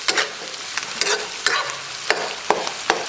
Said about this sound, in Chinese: 然后来勺郫县豆瓣酱， 给它简单炒出红油